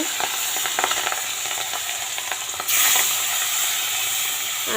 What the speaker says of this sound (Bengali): মাছগুলো এই যে হলুদ লবণ মাখিয়ে নিচ্ছি মাছটা এখন ভেজে